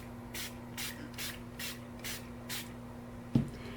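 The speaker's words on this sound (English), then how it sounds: "I'm going to go ahead and use the Too Faced Hangover 3-in-1 setting spray." Too Faced Hangover 3-in-1 setting spray misted in six quick, evenly spaced soft hissing bursts, close and fairly quiet, followed by a small click.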